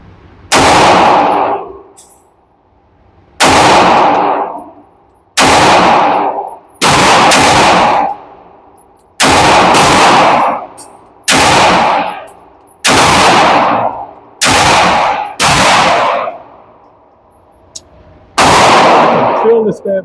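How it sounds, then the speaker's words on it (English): A series of about ten loud, sharp pistol gunshots from ported S&W Metal Carry Comp and Canik handguns, fired one at a time at irregular intervals of a second or two, each with a short ringing decay. "I'll talk over the gunshot."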